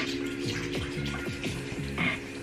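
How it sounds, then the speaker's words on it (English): Water running from a tap while a face mask is washed off at a sink, a close steady stream broken by a few splashing gurgles over a couple of seconds. "So I'm gonna wash off my face mask."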